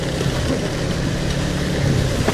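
A motorcycle ridden in the rain gives a steady, loud roar of engine and wind noise that holds level throughout, with no clear separate revs.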